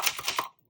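A 1980 Brother Charger 11 correction typewriter is struck three or four times in quick succession. The crisp, close keystrokes stop abruptly and leave silence.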